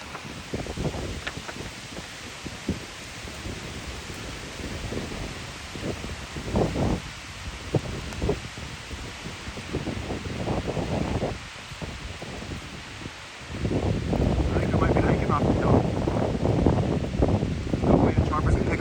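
Wind rushes across a forested mountainside of old-growth fir, gusting and rustling in uneven surges that swell louder and steadier toward the end, while a voice is faintly heard.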